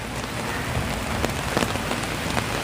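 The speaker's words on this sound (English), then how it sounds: "You hear the rain?" Heavy rain pours down in Da Nang, a dense, loud, continuous hiss of drops hitting surfaces, with a few sharper nearby splats standing out.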